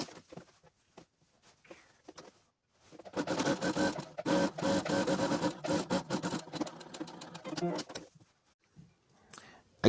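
Sewing machine stitching a jacket hem along a seam, a few seconds of fast mechanical chatter in the middle, with handling clicks and rustle before and after.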